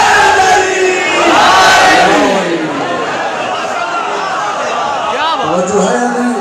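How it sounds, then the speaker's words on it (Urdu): A large crowd at a Shia religious gathering chants the Nara-e-Haidari slogan in unison, a loud, swelling roar of many voices that rises and then fades back into a continuous murmur. "100 لاکھ نعرہ حیدری"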